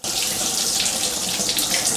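Water runs steadily from an oil rubbed bronze bathroom faucet into the sink, a continuous close hiss and splash with no pauses.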